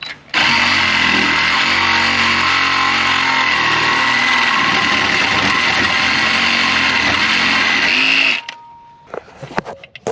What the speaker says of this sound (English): I'm gonna go ahead and cut this pipe and get this tailpipe out from under here.